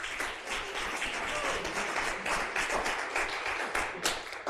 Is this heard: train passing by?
no